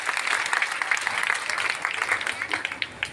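An audience claps steadily at a CSC centre event in Patna, a dense patter of many hands that holds for the whole stretch, moderately loud, with no words clearly heard.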